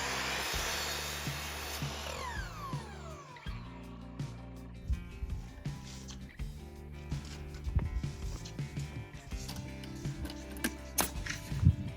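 Saw fitted with a trim blade cutting wood for a window header on a house build, a loud whine winding down over the first few seconds, followed by scattered knocks, clatter and handling sounds.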